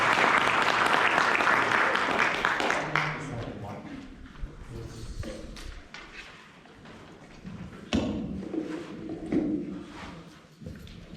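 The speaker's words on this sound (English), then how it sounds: "a round of applause for Joel" A club meeting audience applauds loudly for about three seconds, a dense burst of clapping that quickly dies away into thumps and shuffling, followed by a person beginning to speak.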